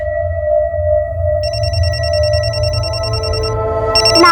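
A mobile phone left behind at home rings with a steady electronic ringtone, sustained tones that change partway through, then a brighter repeated trill, close and clear with no talk.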